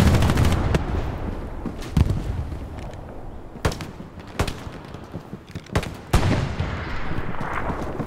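Sharp gunshots crack through a Hell Let Loose firefight, a mix of single reports and quick bursts at varying distances over a constant rumbling battle background, some shots close and loud, others fainter.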